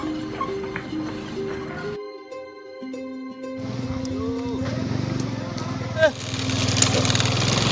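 A motorcycle engine is started after a stretch of near silence, catching with a rough, sputtering rise and then running steadily and fairly loud, with a short burst near the end and voices talking over it.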